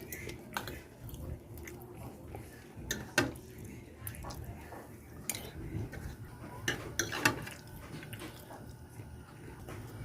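Someone eats pork belly afritada with potatoes and carrots, utensils clinking against a plate amid soft chewing, with scattered sharp clinks over a low room background.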